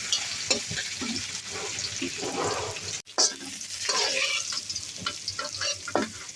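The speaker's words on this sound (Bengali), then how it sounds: "এখন আমি রসুন কাঁচামরিচ আর কিছু আলু ভেজে নেব ভর্তার জন্য।" Garlic, green chilies and potatoes sizzle steadily in a hot pan, with the scrape and clatter of stirring breaking in now and then; no voices.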